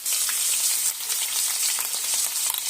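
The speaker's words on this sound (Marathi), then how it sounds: "आता हे मसाले अशा प्रकारे आपल्याला तेलात व्यवस्थित असं परतायचे" Ground spice paste for Afghani egg curry sizzles steadily in hot oil, with occasional scraping and stirring sounds and no talking.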